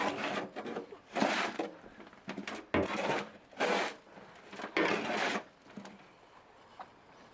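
Potting soil being mixed by hand in a fiber grow bag, with repeated rough rustling and scraping bursts in an irregular rhythm, close and moderately loud, with brief pauses between strokes.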